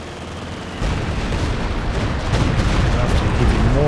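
Heavy mortar fire in Company of Heroes 2, booming, rumbling battlefield blasts that start abruptly and grow denser and louder over a few seconds.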